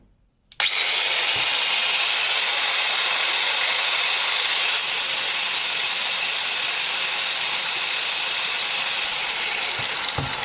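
A Vitals Ls 1290KNvp angle grinder set to a medium speed starts abruptly and runs with a steady, loud, high whine. A faint click comes just before the start, and another comes at the end.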